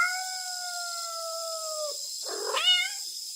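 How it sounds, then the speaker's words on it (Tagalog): A long, drawn-out wail fades out, then a short strained cry follows, both high-pitched and close, with a steady hiss behind. "may narinig akong pumapalahaw na kuting"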